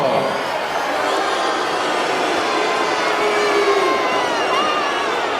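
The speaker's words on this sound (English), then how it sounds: "The booing's here just as much though" A large boxing arena crowd booing the Soviet fighter Drago in Rocky IV, a dense, steady roar of many voices that holds at even loudness throughout with no pauses.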